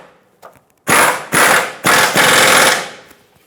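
A ratchet snugging up the front lower control arm bushing bolt on a 2012-2017 Hyundai Accent: four loud, close bursts of rapid clicking, the last one longer and fading out, with a faint tap just before.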